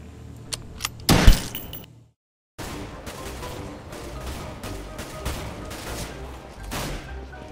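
A pistol fires several sharp shots close by, then a brief silence before continuous gunfire and game noise resume.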